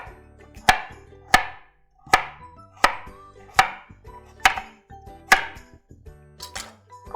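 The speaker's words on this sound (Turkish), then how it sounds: "Bunları da doğrayıp atalım." Crisp, evenly spaced knife chops through carrots on a cutting board, about ten sharp strikes in a steady rhythm, close and clear with no talking.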